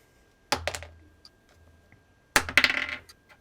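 Dice rolled at a tabletop role-playing game session, two separate bursts of clattering rattles on a hard surface, close and fairly loud, with quiet gaps between.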